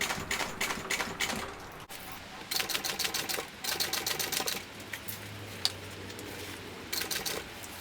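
A sewing machine stitches right beside a zipper on a crossbody bag, running in short rattling bursts with brief pauses between them, close and moderately loud.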